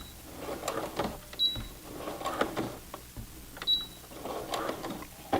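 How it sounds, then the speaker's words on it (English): A Brother PC 420 sewing machine back-stitches a heavy Levi's jeans hem, running in short close bursts of rapid mechanical whirring with brief pauses and clicks between runs. "And then I'm going to back stitch."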